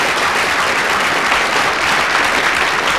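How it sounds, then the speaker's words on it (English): Dense, loud audience applause, a steady wash of many hands clapping without a break throughout. "Oh, I've got applause."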